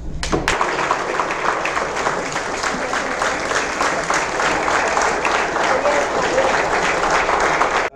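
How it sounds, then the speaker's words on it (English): Loud, dense applause from an audience at a Polish Canadian Christmas wafer gathering, honouring veterans; many hands clapping continuously and evenly for several seconds, close and full. "please let's give a round of applause for our veterans"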